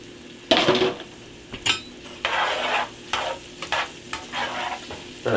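Tomato goes into a pot of charro beans cooking on a medium stove, producing a sizzle with scraping stirs and clinks of a utensil against the pot in irregular bursts.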